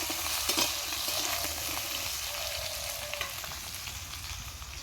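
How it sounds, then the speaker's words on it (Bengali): Potatoes and eggplant fry in hot oil with a steady, dense sizzle and crackle, close by and fairly loud, with a few brief stirring scrapes and no talking. "ভেজে নেবো লাল লাল করে আলু বেগুনগুলো"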